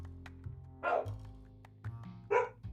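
Dogs bark indoors in a couple of short, separate outbursts, fairly faint and heard over a low background hum.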